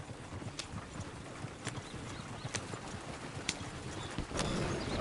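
Horses clip-clop in Red Dead Redemption 2, faint irregular hoof strikes over a steady outdoor ambience with distant bird calls.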